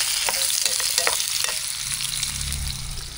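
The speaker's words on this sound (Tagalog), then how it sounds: "Dito naman ay nagpiprito na po ng dog hotdog." Hotdogs frying in hot oil, a steady close sizzle with bursts of crackling and the scrape of stirring, then a lower bubbling rumble toward the end, with no one talking.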